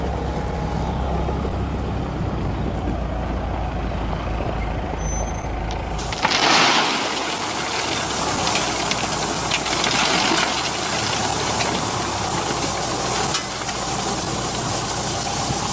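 A diesel loader engine rumbles steadily at a gravel yard while number 67 stone is dumped into a trailer, with a sharp burst of hiss and clatter midway and continuous broadband machine noise throughout.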